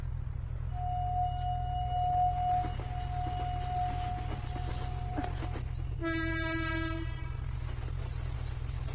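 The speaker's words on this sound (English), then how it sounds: "Sounds like a train. It's coming." A train approaches over a steady low rumble, sounding a long horn blast followed by a shorter, richer horn call.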